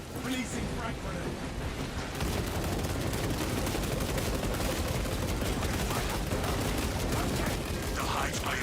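Sustained gunfire and a frag grenade blast in a Warhammer 40k video game against a Tyranid horde, a dense, continuous roar of shots and explosions filling the whole stretch, with voices faintly mixed in.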